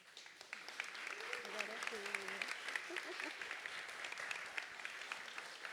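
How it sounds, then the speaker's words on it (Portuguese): An audience claps after a talk at a panel on Indigenous women's leadership, a steady patter of applause at moderate distance throughout, with a voice briefly speaking under it early on. "Palmas."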